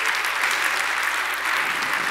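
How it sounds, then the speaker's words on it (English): A crowd of conference attendees claps in a steady, dense round of applause, loud and continuous throughout the short burst. "let's just do a round of applause for the people who did"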